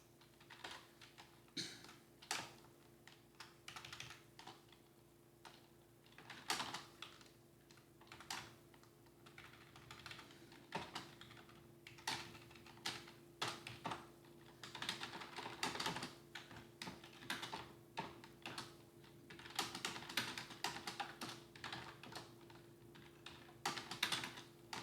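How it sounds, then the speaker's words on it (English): Someone types on a computer keyboard while coding a function that prints a triangle: long, irregular bursts of quiet, close key clicks with short pauses between runs, with no talk. "let me make sure I type that right"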